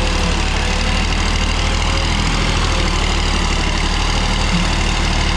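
A tractor engine runs loud and close at a tractor pulling competition, a steady heavy low diesel rumble with a constant throb that fills the whole stretch without pause and without speech over it.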